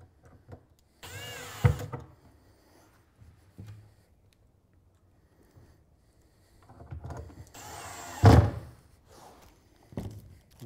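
Close, fairly quiet screw-driving as a cabinet corner piece is fastened during base cabinet assembly, with two louder bursts of turning and a sharp knock, separated by stretches of near silence and small handling noises.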